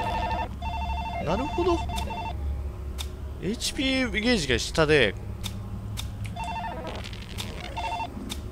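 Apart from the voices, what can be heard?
telephone ringing in the COLINA Legacy horror video game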